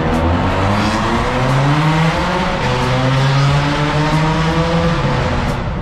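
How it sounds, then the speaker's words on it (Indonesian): An engine in traffic close behind a car revs loudly and repeatedly, its droning pitch climbing and falling in sustained sweeps with no pauses. "dari tadi dia geber-geber motor di belakang dia"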